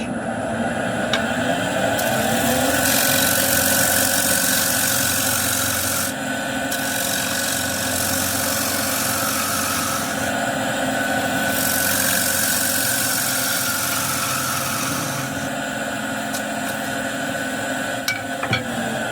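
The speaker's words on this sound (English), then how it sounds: "I'll try and get it with the gouge instead of the scraper, just to get a nice cleaner cut." A live edge bowl spins on a wood lathe while a gouge cuts it, giving a loud, continuous scraping rasp over the motor's hum that swells and eases in several long passes.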